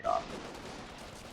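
Brief burst of rapid gunfire from soldiers in a strategy video game, a short rattling volley at the start that quickly fades into a low background wash.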